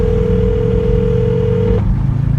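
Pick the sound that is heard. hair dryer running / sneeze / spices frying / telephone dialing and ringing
telephone dialing and ringing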